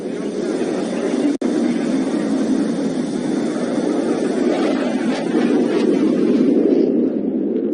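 A Sentry aircraft departs at the Cosford airshow with a loud, steady roar of engines that holds throughout and thins slightly toward the end, heard from the crowd line.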